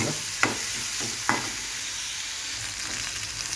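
Chicken frying in a pan gives a steady sizzle throughout, with a couple of sharp stirring scrapes near the start and faint clinks later.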